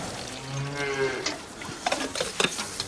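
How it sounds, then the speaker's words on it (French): Cow on a farm giving a long, low moo up close, followed by faint rustling and small knocks. "c'est rien qu'une vache"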